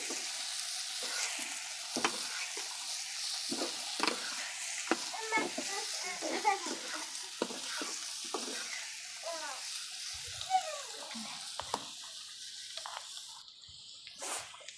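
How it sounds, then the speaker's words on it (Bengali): Ghetkol greens fry with softened onion in a pan, and a spoon stirs them through a soft continuous sizzle with repeated scraping strokes, close and fairly quiet, with no talk. "ঘেটকুলটা দিয়ে নেড়ে দেব।"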